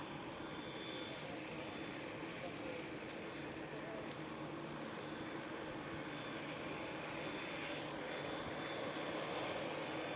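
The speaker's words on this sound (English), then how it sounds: "I do see a 777-300ER coming our way." Boeing 777-300ER airliner approaching Schiphol airport, a broad distant jet roar that swells gradually and grows louder toward the end, heard outdoors as a steady rumble.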